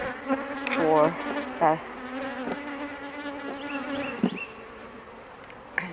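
Honey bees buzz close to the microphone during a spring hive inspection, individual bees droning past in rising and falling tones over a steady hum, with a brief snatch of speech.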